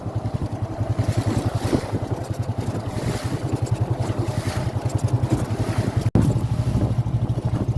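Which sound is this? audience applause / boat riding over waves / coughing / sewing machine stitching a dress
boat riding over waves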